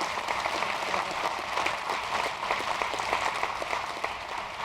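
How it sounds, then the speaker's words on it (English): An audience at a New York State economic policy event gives sustained applause, with dense, steady clapping throughout, close and alone. "Bob Duffy, give him a round of applause"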